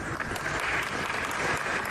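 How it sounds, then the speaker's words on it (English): Studio audience applause at a live talk broadcast, a steady patter of many hands clapping at moderate distance for a couple of seconds, with no voices over it. "He got a round of applause."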